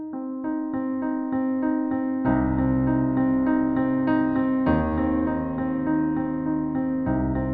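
Piano chords played in a slow, even rhythm, a repeated pattern whose lower notes shift to deeper bass octaves midway, ringing clearly with no voices.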